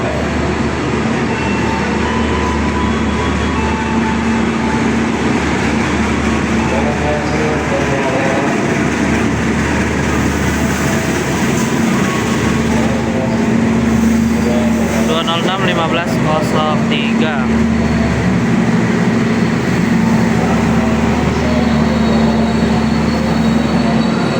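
Passenger train hauled by a CC 206 diesel locomotive, the stainless steel new generation Jaka Tingkir service between Lempuyangan and Solo Balapan, heard as a loud steady rumble and rolling roar with a low hum, voices talking over it.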